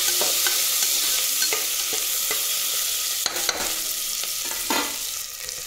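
A spoon stirs onions, bagara flower and spices in a frying pan. Scraping strokes tap and clatter at irregular intervals over a constant close sizzle, with a couple of sharper knocks partway through and no talking.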